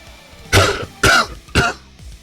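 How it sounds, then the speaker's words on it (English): Someone coughs three times in quick succession, loud and close, in a dusty tunnel, each cough a harsh rasping burst, then a faint throaty clearing trails off at the end. "the silence was broken by someone coughing."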